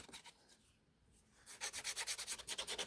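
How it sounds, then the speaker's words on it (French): Edge of a piece of leather sanded along its length, starting as soft rubbing and then becoming a steady run of loud, rhythmic back-and-forth scraping strokes, close up with no talking. "Donc on va prendre la tranche et on va la poncer. Donc on ponce tout le long."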